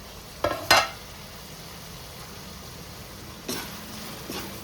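Tomatoes cooking in a pot for mutton paya curry, with a couple of short scraping stirs near the start and later, over a steady low bubbling hiss.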